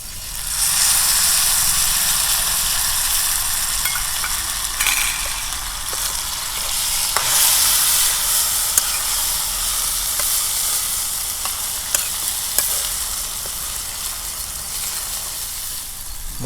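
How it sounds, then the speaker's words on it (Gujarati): Tomatoes with coriander-cumin powder, garlic red chili and turmeric sizzle and fry in a pan over a traditional clay stove, a continuous bright hiss with occasional stirring scrapes and clicks, close and steady, without voices. "હવે આપણે ટમેટા નાખીને બરાબર મિક્સ કરી લઈશું."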